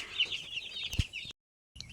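Broiler chicks gathered under a raised platform cluck and peep in busy high chirps, with a sharp knock partway through, a short silence, then more chirping.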